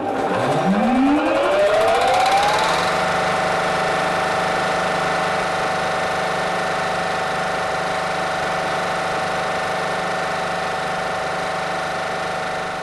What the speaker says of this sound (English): First, I activate the main switch to start up the compressor.